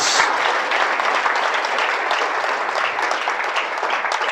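A church congregation applauds in praise during a Spanish-language sermon, a dense steady wash of many hands clapping, loud and close, filling the whole stretch without a break.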